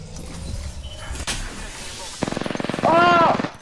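Automatic gunfire in the video game Apex Legends, a run of rapid, evenly spaced shots followed by a louder sustained burst, heard close and mixed with game effects, with players talking over it.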